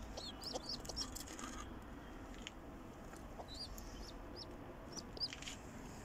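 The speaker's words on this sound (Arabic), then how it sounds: "وعندهم فرخات هسه راح اصوركم اياهم" Chickens in a farmyard cluck in short, scattered calls over a steady outdoor background, fairly faint and with no one speaking.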